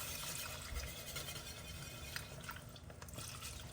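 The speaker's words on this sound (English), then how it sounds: "now we're going to just go and add in our milk" Milk is poured into a thick roux in a copper pot, a soft continuous liquid trickle with faint drips and clinks of the pot, all fairly quiet against room noise.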